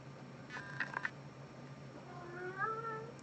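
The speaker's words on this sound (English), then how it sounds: "Meow?" A pet cat meows several times, short calls around the first second followed by a longer drawn-out meow near the end, fairly close but soft, with no talking.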